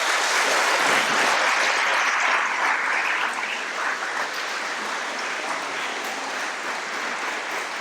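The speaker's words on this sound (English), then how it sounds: "let's give them another round of applause, everybody." Sustained applause from a large audience fills the room, steady and broad for the whole stretch, easing off only slightly toward the end with no talk over it.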